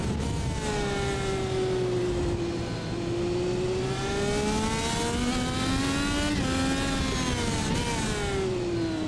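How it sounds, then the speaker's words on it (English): Race car engine in the iRacing sim at Circuit of the Americas, running loud and continuous as it brakes hard and shifts gears, the pitch dropping and climbing through several gear changes. "Really deep on the brakes and also just mashing through the gears."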